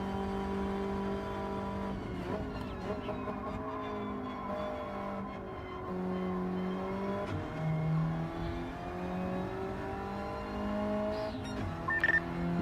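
Engine of a GTI race car lapping a circuit in a racing video game, a steady droning note that rises and dips through gear changes, with brief tire squeal near the end, loud and continuous.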